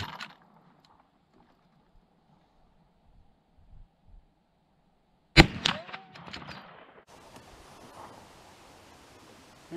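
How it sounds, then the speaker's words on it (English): A Marlin 1893 rifle with excess headspace fires a single loud, sharp shot on a 75-yard range after a stretch of near silence, followed by brief rustling and handling noise. "And our third shot."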